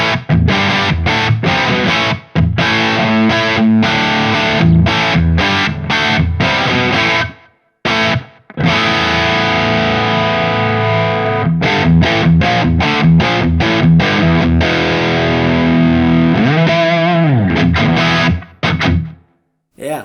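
Electric guitar played with heavy distortion through a Synergy 800 amp module: loud, dense chords and riffs with a few brief gaps, and a bending passage near the end, with no talking over the playing.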